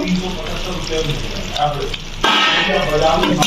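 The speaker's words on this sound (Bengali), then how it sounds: "আমরা এবার ঢাকনাটা খুলে দেখবো।" A metal lid lifted off a cooking pot of traditional muri ghonto made with fish head, with a clank and a rush of hissing steam and bubbling, a voice talking over it.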